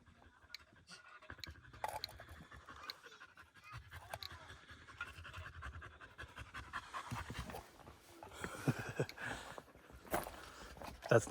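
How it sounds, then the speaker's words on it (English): Several dogs pant near the microphone while following someone around a ranch, a steady overlapping huffing with occasional chewing and scraping sounds, no talk. "That's not me breathing heavy, that's all the dogs following me around."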